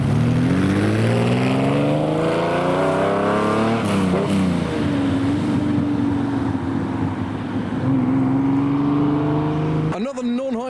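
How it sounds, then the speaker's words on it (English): A Lamborghini Countach and a Ford Transit van rev on the road in a supercar convoy, loud engine notes climbing and sliding in pitch, holding a long droning tone, then cut off by sharp noise at the end. "Oh, the Transit revs with the Countach."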